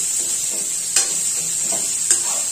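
Cauliflower pieces fry steadily in a pan of oil, a constant bright sizzle with two sharp clatters of a spoon or ladle against the pan. No one speaks.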